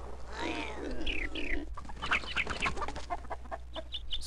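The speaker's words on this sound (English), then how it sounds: "Shoot him, not the chickens." Chickens cluck in the Redneck Rampage video game, a few short bird calls standing out over steady game background noise and other effects.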